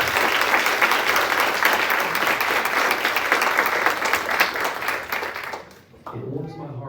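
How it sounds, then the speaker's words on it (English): A high school concert audience at a Christmas band concert applauds a bass clarinet soloist, loud dense clapping that carries for several seconds before dying away, then a voice speaks. "Please give her a round of applause."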